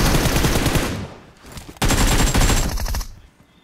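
Rapid automatic gunfire in the battle royale game BGMI, with dense crackling bursts, a short lull, then another sustained volley before it trails off.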